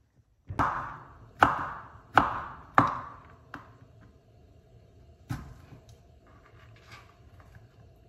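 Squash is chopped on a cutting board in a kitchen, four sharp knife strikes at a steady pace, then a couple of fainter chops and light clatter against a quiet background.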